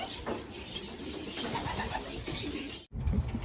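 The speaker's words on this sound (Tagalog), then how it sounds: "Ito yung oh, gandang mga ibon mga kalapatids oh." Racing pigeons coo and murmur steadily in a loft while being basketed for an 800 km race, a soft continuous flock sound with light rustling and a brief dropout near the end.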